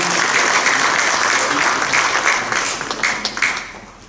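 Steady applause from a crowd at a church assembly meeting, continuous and fairly loud, with individual claps growing more distinct as it tapers off toward the end.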